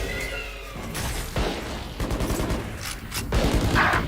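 Gunfire in a Valorant match during a varsity esports game: several bursts of rifle shots and impacts, fairly loud and irregular, mixed with game effects across the round.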